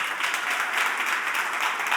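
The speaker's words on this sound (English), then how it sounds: "a round of applause to everybody that made it today" A crowd applauds steadily, dense clapping from many hands filling the space without pause.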